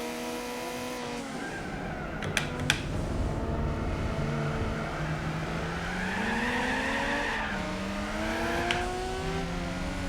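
A race car in Gran Turismo 4 spins its wheels as tires squeal, the engine revving in rising and falling sweeps across a long, steady, loud stretch with no talking.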